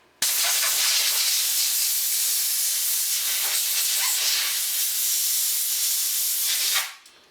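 A steady, loud aerosol hiss of water-displacing oil sprayed onto revolver parts runs continuously for several seconds, then cuts off abruptly.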